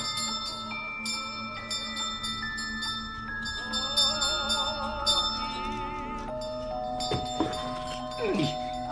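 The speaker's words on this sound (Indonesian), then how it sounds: "lonceng pun berbunyi" A doorbell rings at the front door in a dramatic film scene, its tones chiming over a bed of background score, with a brief burst of clattering noise near the end.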